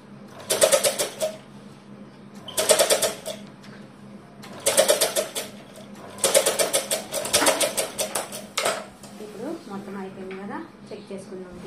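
Electric sewing machine stitching a long frock, running in loud, close bursts of rapid whirring about two seconds each, separated by short pauses, with fabric handling sounds near the end.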